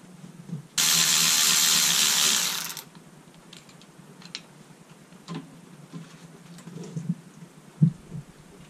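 A ratchet loosens a cam cap bolt on a Honda K20 engine: a rapid, loud burst of clicking for about two seconds, followed by quieter scattered metallic taps and clunks nearby.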